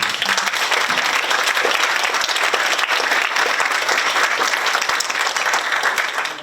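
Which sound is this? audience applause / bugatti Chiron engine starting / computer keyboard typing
audience applause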